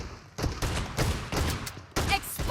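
Shotgun blasts in PUBG Mobile, a series of loud, separate close-range shots with short gaps between them, plus a few quicker cracks near the end.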